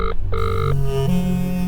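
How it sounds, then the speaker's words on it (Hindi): A telephone rings in short electronic bursts, two quick trills followed by a sustained tone, loud and close with no voices. "ये फोन क्यों नहीं उठा रहे हैं?"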